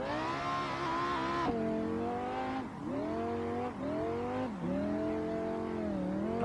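BMW M5 E60 sedan with its large front-mounted V10 revving hard on a mountain road, a loud, close engine note rising through the gears in several pulls, dipping between shifts, with no talk over it.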